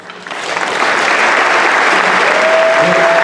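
Loud, dense applause from an assembly audience honoring civil rights activists, swelling quickly and holding steady as a broad wash of clapping close at hand.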